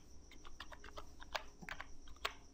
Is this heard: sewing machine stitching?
no